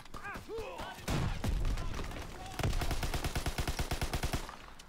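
Light machine gun fire in Call of Duty WW2 rattles out in fast bursts, with a long steady string of rounds near the end, while a voice is briefly audible early on.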